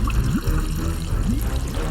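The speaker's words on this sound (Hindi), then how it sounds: "लल्लन को पकड़कर जी भर के पिला दिया पानी" Cartoon water being poured for drinking, a close, loud gurgling stream with rising pitch sweeps as the vessel fills, continuous with no talking.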